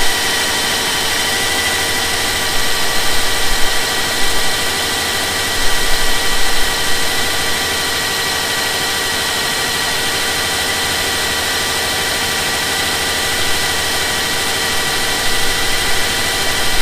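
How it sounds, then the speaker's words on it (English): A Subaru Outback 3.6R engine idles steadily on a cold start with a rough, shaky rumble and a broad hiss, with a few brief surges in loudness, close and continuous. "So that's what the engine sounds like on a cold start"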